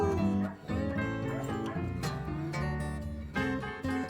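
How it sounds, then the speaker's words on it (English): A dog barks, whines and yips along with blues-style music in a song, the howls and whimpers mixed into the instruments at moderate volume. "They tried to make the dog bark sound bluesy."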